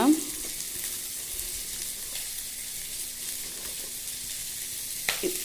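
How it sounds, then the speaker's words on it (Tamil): Curry leaves and coriander leaves sautéing in a pan for coriander chutney, a steady soft sizzle close by with a brief clatter at the start and another near the end. "அப்புறம் வந்து கொத்தமல்லி தழை நிறையாவே போட்டுக்கோங்க."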